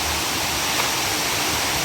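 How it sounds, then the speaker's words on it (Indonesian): A big river rushes at night on the far side of a wall, heard as a steady, dense broadband roar of flowing water, continuous and fairly loud throughout. "Seberang tembok ini sungai besar"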